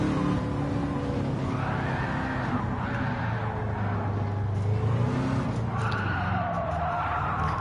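Car tyres skid and squeal continuously while drifting in Gran Turismo 7, loud and close, with engine revving underneath and pitch wavering as the slide shifts.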